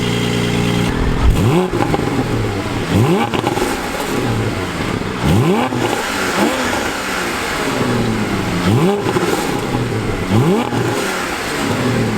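A Porsche 718 GTS 4.0 engine accelerates hard in awful weather, its note climbing in repeated rising sweeps through gear changes, loud and close throughout.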